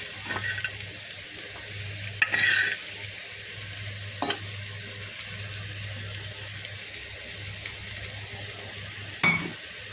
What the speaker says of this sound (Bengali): একটু মাছটা কষিয়ে নেব একটু নেড়ে চেড়ে মিশিয়ে দিলে খেতে ভালো লাগবে